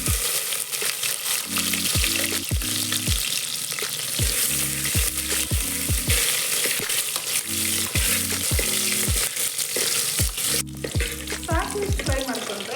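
Lengthwise-sliced onions, about half an onion, fry in hot oil with a steady, loud sizzle throughout, while a ladle stirs and scrapes the pan in repeated short bursts; no one speaks.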